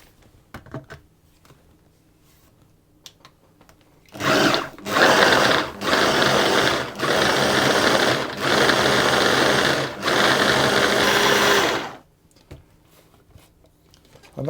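Food processor chopping cheddar cracker mixture to a coarse texture, a loud motor roar pulsed in about six bursts with short breaks, framed by quieter clicks and handling before and after.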